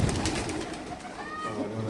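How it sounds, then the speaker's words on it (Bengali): Caged racing pigeons at a pigeon farm cooing, a soft, low throaty coo rising close by over a brief moment amid background bird noise. "আমরা একটু দেখা দিচ্ছি কবুতরগুলো"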